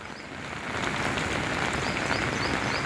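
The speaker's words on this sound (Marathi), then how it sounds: "पाऊस सकाळपासूनच सप संततधार चालू आहे" Heavy, continuous monsoon rain pours down in Konkan, a dense steady wash of drops that swells in the first second, then holds loud and even, with a faint bird call behind.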